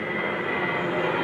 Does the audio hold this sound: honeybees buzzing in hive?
no